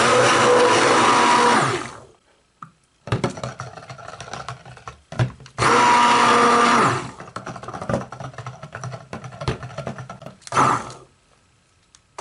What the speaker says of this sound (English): let's blend this up